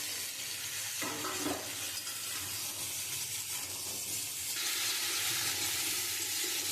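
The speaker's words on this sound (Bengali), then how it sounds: "আমি মশলাটা দিয়ে একটু কষিয়ে নিয়েছি।" Cumin, salt, green chilli and turmeric frying with cucumber pieces in oil in a pan, a soft, fairly faint sizzle with a few stirring scrapes, a brief hiss shift partway, no talking.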